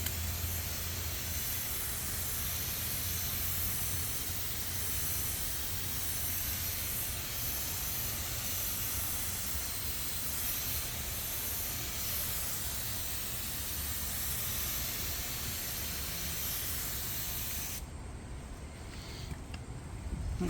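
A pressure sprayer mists spray-on rinse-off sealant onto a car, giving a steady, close, unbroken hiss that fades at the very end.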